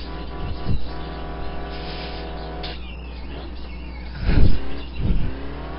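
A Spec Racer Ford race car engine droning steadily on track, its harmonic tone shifting as revs change, with a few loud whooshing passes of nearby cars and faint chirps in the background.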